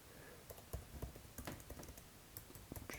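Computer keyboard typing a chart title in LibreOffice Calc, a quick irregular run of close, quiet key clicks in small bursts with no talking.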